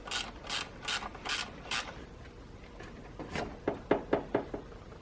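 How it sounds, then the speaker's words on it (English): Mechanic working on the engine bay of a Saab 9-3, pulling off an intake hose: a series of quiet, close rattling clicks and knocks, a regular run at first, then sharper scattered taps. "let's go ahead and start by removing this intake hose right here"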